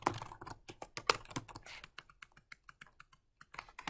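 Keys on a computer keyboard clatter in quick, uneven bursts of close taps during data entry in office software, with short pauses between runs and no voices.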